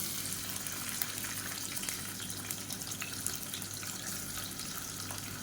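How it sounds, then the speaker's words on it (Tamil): A medium onion sizzles in hot ghee and oil for a biryani, a soft steady crackling hiss that runs evenly throughout at low volume with no talking. "எண்ணெய் நல்லா சூடாயிருச்சு மீடியம் சைஸாக ஒரு வெங்காயம் சேர்த்துக்கலாம்"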